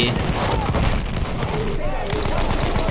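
Battlefield 1 battle: dense, continuous gunfire with booming blasts and rumble, loud and unbroken throughout, with faint voices mixed in.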